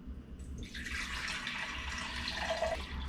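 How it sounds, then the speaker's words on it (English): Purified water pours steadily into a measuring cup at close range, a continuous splashing stream that starts after a brief pause and runs to the end. "So let's measure out 3 cups of water here."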